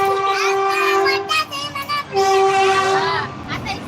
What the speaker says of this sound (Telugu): ఇంకో ట్రైన్ పోతున్నది